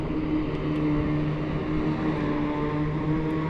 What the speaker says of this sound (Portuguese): Tem um trem ali que tá fazendo barulho ali, ó. Transportando ferro.